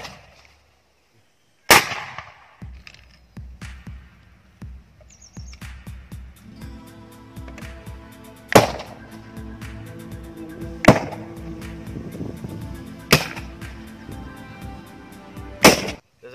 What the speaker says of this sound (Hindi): जैसा कि आपने देखा कितना जोर से धमाका हुआ, तो धमाका बहुत जबरदस्त तरीके से हुआ